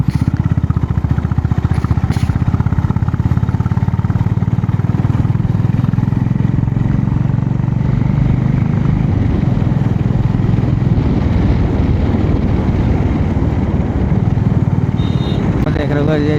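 A motorcycle rides out past a toll booth with a steady, close engine drone and road noise that continues throughout, without much change in pitch.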